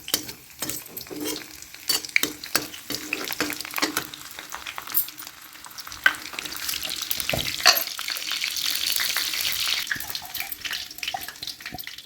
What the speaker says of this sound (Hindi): तेल हमारा गरम हो रहा है कढ़ाई में, और उसी में डाल दिया गया है लहसुन और जीरा